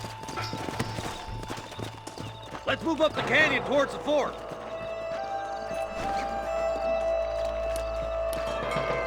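Horses in the Western video game Red Dead Redemption clop along a canyon path, with a short whinny in the middle, steady hoofbeats under a voice and background game music.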